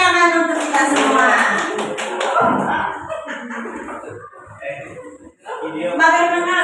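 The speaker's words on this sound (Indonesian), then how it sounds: "Tepuk tangan untuk kita semua." A group of participants at a positive-discipline training session claps together in a burst of applause, mixed with cheerful voices and chatter, then a single voice carries on speaking as the clapping fades.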